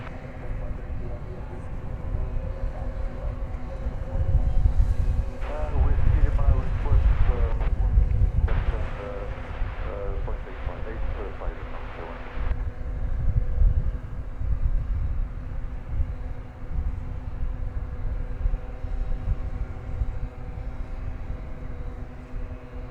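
A Boeing 787-9 airliner landing at DFW airport, a heavy, roaring jet rumble swelling and then slowly fading, heard from a distance with wind buffeting the microphone.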